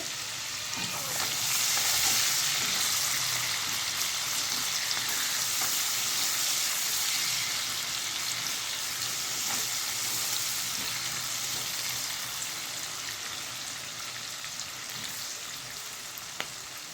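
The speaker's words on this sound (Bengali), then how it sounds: "পেঁয়াজটাকে লাল লাল করে ভেজে নিতে হবে" Chopped onions fry in hot oil with cinnamon and cardamom for a country chicken curry, a loud, dense, continuous sizzle close up with faint stirring scrapes and no talk.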